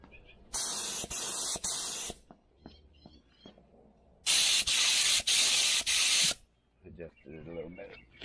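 An aerosol spray can hisses in two loud bursts of a few seconds each as a coat of paint goes onto a milling machine, close up, with quieter rustling and handling noises in between.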